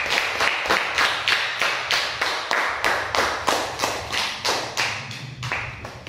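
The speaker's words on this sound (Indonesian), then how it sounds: "Tepuk tangan untuk kita semua." A class of schoolchildren claps together at the end of a lesson, a steady run of sharp hand claps in regular rhythmic bursts, close and fairly loud, with no talking.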